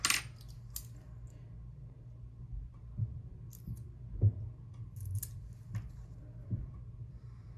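A rolled quarter knocked over while coins are sorted by hand, giving a sharp metallic clink at the start followed by several softer taps and clicks of coins being handled on a hard surface.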